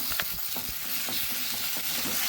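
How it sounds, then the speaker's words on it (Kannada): Tomatoes hit softened onions in a hot pan for a Mangalorean soya chunk gravy, giving a steady close sizzle broken by repeated scraping, clattering stirs of a spoon against the pan. "ಈಗ ಟೊಮೆಟೊ ಹಾಕಿದ ಕೂಡಲೇ ಇದನ್ನು ಸ್ವಲ್ಪ ಹೀಗೆ ತಿರುಗಿಸಿಕೊಂಡ"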